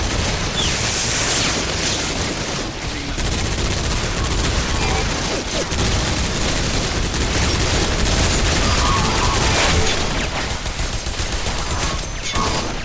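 Dense gunfire and explosions from the shooter game Bodycount, with exaggerated physics, roar continuously at high level, a loud sustained barrage of shots and blasts with no pauses.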